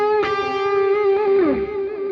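A short distorted electric guitar phrase from a solo, with a struck note that rings and then a downward slide, loud and upfront for about two seconds without speech.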